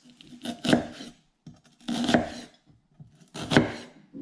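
Three separate bursts of a very sharp knife slicing through an onion on a cutting board, close and crisp with short pauses between strokes, with no one talking.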